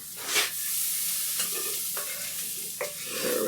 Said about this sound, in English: Throw the corn into the bowl.